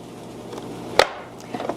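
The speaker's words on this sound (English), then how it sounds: "So let's get chopping." A vegetable chopper slices through onions with one sharp, crisp chop near the one-second mark, followed by a few softer, quieter knocks, all close by against a faint background.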